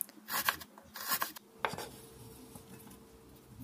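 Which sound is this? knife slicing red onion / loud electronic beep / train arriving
knife slicing red onion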